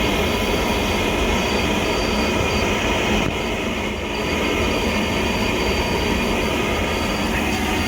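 A Pentair MasterTemp 400 pool and spa heater runs with a loud, steady broadband roar that lasts throughout, dipping slightly for a moment near the middle, with no voices.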